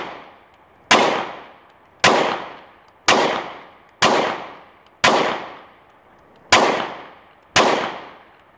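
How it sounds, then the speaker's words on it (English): Pistol shots from a Ruger SR9C and a Walther P22 ring out loud and sharp, eight single cracks spaced about a second apart, each followed by a short decaying echo in open air. "that's a few shots with the SR9C, a few shots with the Walther P22"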